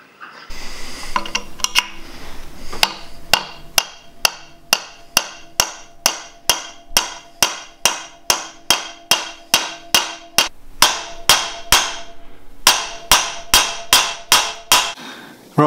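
Steady, evenly spaced hammer blows ring out close and loud, about two a second for over ten seconds, striking to drive out a rusted fastener on an old barn-find Ferguson tractor.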